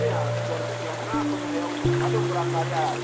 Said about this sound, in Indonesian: Ini aliran sungai Coblong